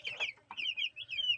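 Young broiler chickens cluck and peep softly at close range, a quick run of short chirpy calls in a quiet coop.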